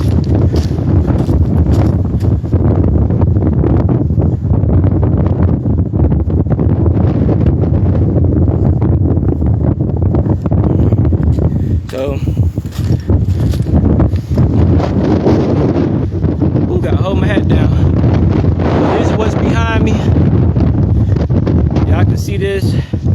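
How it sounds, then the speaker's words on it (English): Strong, steady wind roars into the microphone on a high mountain hike, gusting hard and buffeting throughout, with a voice talking faintly beneath it. "You all can hear the wind. As I get higher,"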